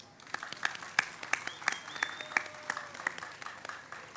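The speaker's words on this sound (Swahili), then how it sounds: "Kama umewahi kusikia hii kauli, naomba upige makofi." An indoor audience claps during a talk, a dense crowd applause of fairly even intensity with scattered louder claps across the whole stretch.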